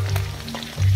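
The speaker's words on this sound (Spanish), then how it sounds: "Vamos a sofreír todo esto. A un juego más o menos lento." Crab and seafood sautéing in a pan over moderate heat for a Salvadoran mariscada: a close, steady hiss of frying with no voices.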